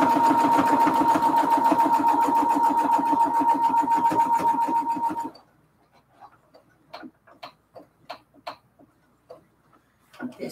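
A sewing machine runs steadily for about five seconds, stitching a quarter-inch seam on a cathedral window quilt pillowcase, then stops; a few soft clicks and handling sounds follow in the quiet.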